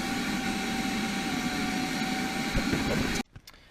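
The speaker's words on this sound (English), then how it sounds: "I'm going to use my handy dandy shop vac" A shop vac runs steadily inside a 2008 Ford Expedition, a loud constant whine and rush of suction with a few bumps of the nozzle before it cuts off abruptly near the end.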